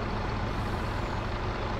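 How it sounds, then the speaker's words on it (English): Heavy lorry with air brakes, having just unloaded lime on a farm in Farming Simulator, gives a steady dense engine rumble and broadband hiss throughout, loud and continuous with no talk. "Another lorry there just unloaded a load of lime"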